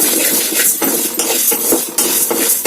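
Coriander seeds rattle and scrape in a pan over a low flame, a dense metallic clatter with repeated sharp stirring strokes, close and loud throughout.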